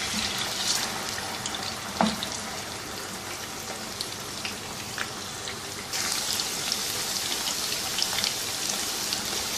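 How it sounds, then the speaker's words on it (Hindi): Potatoes frying in hot oil, a continuous dense crackling sizzle like steady rain, close and even, with a brief louder pop early and the hiss growing brighter partway through, no voices. "आलू फ्राई कर लेंगे। इनको तकरीबन आपने 10 मिनट फ्राई करना है।"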